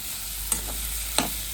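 Upma cooking in oil with potato is stirred in a pan, giving a low steady sizzle broken by two sharp clinks of a spoon against the pan.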